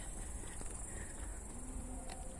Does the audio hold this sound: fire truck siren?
no